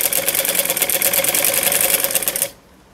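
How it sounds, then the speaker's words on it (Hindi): A sewing machine stitches over elastic on palazzo pants, a loud steady whirring rattle of rapid needle strokes running continuously for a couple of seconds before stopping abruptly. "आगे से प्लास्टिक को खींच के इसके ऊपर से सिलाई लगाऊंगी इस तरह से।"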